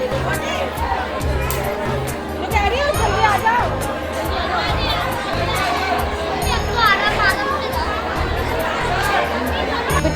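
A dense crowd of pilgrims pours off a train at the Kela Devi fair, with steady loud chatter, children's voices and a busy hubbub filling the platform all around.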